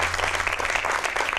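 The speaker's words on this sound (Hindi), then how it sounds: "जोरदार तालियों से स्वागत करेंगे हम" A studio audience on a Hindi TV talk show gives a brief burst of steady applause to welcome special guests. The clapping sits over a low background hum.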